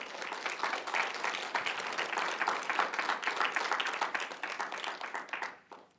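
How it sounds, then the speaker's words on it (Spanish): Church congregation applauding during a Sunday worship service, a dense patter of many hands clapping steadily for about five seconds before tapering off abruptly. "denle un fuerte aplauso al Señor, hermano"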